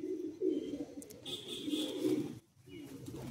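Madrasi pigeons in a loft give soft, rolling coos that run steadily with a brief pause near the end, along with faint higher chirps.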